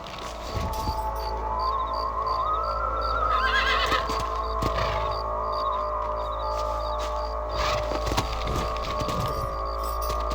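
Horses whinny and neigh several times over a constant low drone in Red Dead Redemption gameplay, with occasional hoof clops and faint ambient tones in the background.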